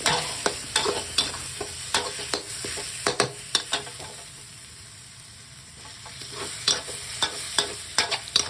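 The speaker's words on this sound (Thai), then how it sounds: "คั่วพริก ให้หอมๆแล้วก็ใส่หมูสับลงไป ใส่หมูบดลงไป คั่วให้สุก" Chili paste and minced pork are stir-fried in a hot pan, giving a continuous sizzle punctuated by frequent sharp spatula scrapes and clacks, close and fairly loud, dipping quieter briefly midway.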